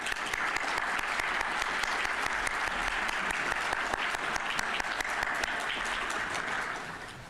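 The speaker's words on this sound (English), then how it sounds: "Let's give a round of applause." A conference audience gives a sustained round of applause for an award recipient, dense, even clapping from a large room that fades slightly at the end.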